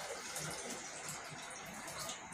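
Wild leafy greens, earlier dried over a wood stove, are washed in clean water, giving a steady, soft splashing and trickling of water that runs continuously at low level.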